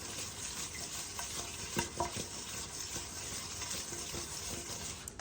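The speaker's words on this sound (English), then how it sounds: "I do want the oil to coat the outside of them. So we're just going to toss them around like this" Mushrooms are tossed in oil in a pan, giving a soft, steady sizzle with occasional light scrapes and clatters of stirring.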